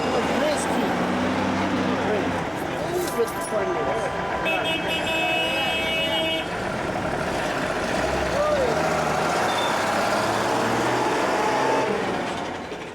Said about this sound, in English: Tuk-tuks, or motorised rickshaws,